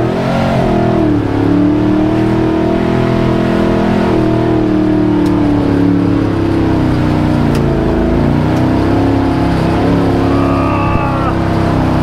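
A rescue vehicle's engine drones loudly and revs in shifting pitches as it backs up for a long pull, a dense steady mechanical rumble throughout with faint voices mixed in.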